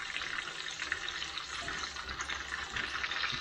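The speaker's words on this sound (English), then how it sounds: "I'm also going to take some of the oil and kind of generally pour it over it." Oil poured over chicken cordon bleu as it cooks, a steady, continuous liquid rush with a watery hiss, heard alone with no talking.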